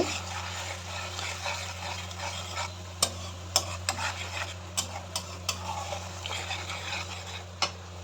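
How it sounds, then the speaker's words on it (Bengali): Spice masala is sautéed in oil in a pan for a prawn and bottle gourd dish, giving a steady low sizzle. Sharp spoon taps and scrapes are scattered irregularly across it, close by, with no talk. "এখনও আমি নাড়াচাড়াই করতেছি কষানোর জন্য"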